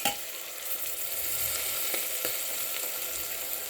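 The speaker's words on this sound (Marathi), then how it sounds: "थोडासा पुलाव मसाला टाकते अंदाजी आणि पण तेलामध्ये चांगला परतून घ्यायचा" Pulao masala sautés in hot oil for a matar pulao, a dense continuous sizzle up close with a couple of soft stirring clicks and no talking.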